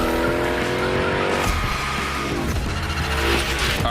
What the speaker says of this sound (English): Let's see how you handled your first slides with the Hoonicorn.